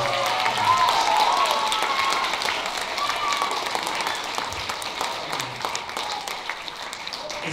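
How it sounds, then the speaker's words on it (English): Audience applause at a school winter concert: a steady, moderately distant wash of many hands clapping that holds evenly for several seconds, with no other sound on top of it. "So please give them a round of applause and congratulations to all of them."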